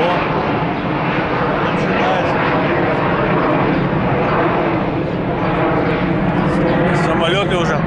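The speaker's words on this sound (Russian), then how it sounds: "Самолеты полетели." Airplanes passing overhead in Adler, heard as a loud, continuous broadband engine roar that stays steady throughout, with people talking over it.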